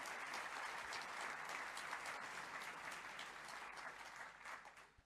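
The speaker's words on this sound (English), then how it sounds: "Give yourselves a round of applause, because you are truly extraordinary" A room full of people applauds steadily, the dense clapping holding at an even level before fading out over the final second.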